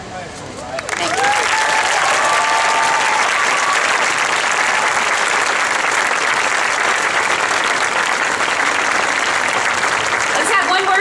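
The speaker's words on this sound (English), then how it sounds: "Let's have one more big round of applause" Loud, sustained applause from a large audience at a Disneyland Resort ambassador ceremony, dense clapping that swells in quickly and holds steady with some cheering mixed in.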